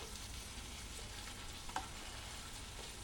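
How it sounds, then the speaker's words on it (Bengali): Jhal puli pitha deep-fry in oil until brown, giving a faint, steady bubbling sizzle with a small knock near the middle, with no voices. "আমি একদম ব্রাউন করে ভেজে নেব"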